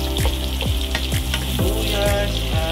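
Onion and garlic frying in a pan, a close, loud continuous sizzle with crackling pops and the scrape of stirring, no voices over it.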